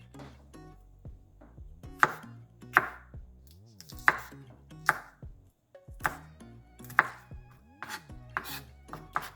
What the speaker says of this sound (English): let me start chopping them up